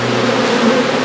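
Agitated honey bees swarm at a newly set-up farm hive, a dense, loud, close buzzing drone that holds steady without pause.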